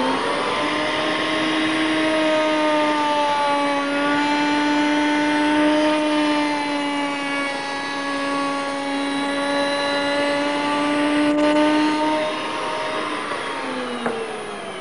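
Router fitted with a cutter shaping timber on a Triton Mk3 workbench from 1984, a loud, sustained high-pitched motor whine that holds nearly steady for about twelve seconds before dropping away at the end.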